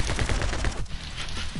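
Rapid gunfire from a weapon in a video game, a fast run of shots across a short burst that breaks off briefly before another shot, loud and close with no talking.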